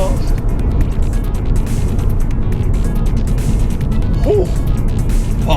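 A SEAT Leon Cupra 300 hatchback with a 2-litre turbocharged petrol engine accelerating hard on an open road with wheel spin in second gear, a loud, steady roar with wind rush heard from inside the car.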